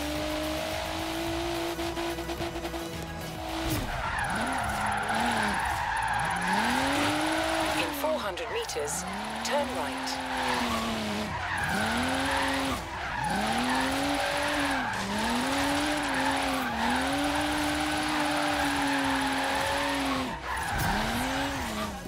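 A BMW M4 Liberty Walk drifting in the racing game Forza Horizon 3, its engine revving and rising in repeated swells while tires squeal through each slide, with someone talking over the car throughout.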